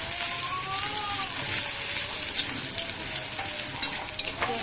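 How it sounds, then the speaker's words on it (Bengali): Onions fry in a pan on a gas stove, a steady close sizzle with occasional stirring scrapes running throughout, no voices. "পেঁয়াজটা একটু ভাজা ভাজা হয়ে গেলে"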